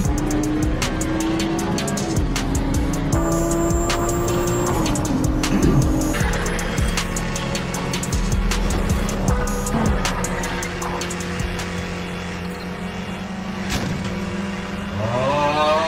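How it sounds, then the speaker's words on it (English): Racing car engine sound effects from the Gran Turismo racing video game: loud, continuous engine roar with rising and falling revs, tire squeals and skids throughout, close and dense with no talk. "Wait, that was Gran Turismo, the sound effects."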